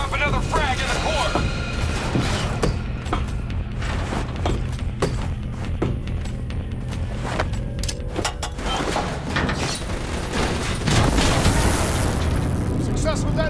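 A frag grenade detonates in Call of Duty Black Ops III, a loud deep boom late in the clip rising over continuous game noise and rumble.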